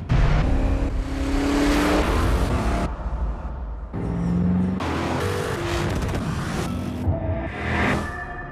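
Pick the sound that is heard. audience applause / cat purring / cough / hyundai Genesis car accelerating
hyundai Genesis car accelerating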